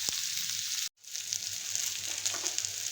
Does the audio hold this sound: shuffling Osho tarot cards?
no